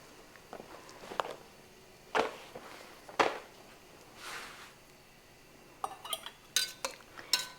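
Pickled pearl onions being spooned into glass canning jars, giving soft scattered clinks and taps of glass and utensil, close by and fairly quiet with pauses between strokes.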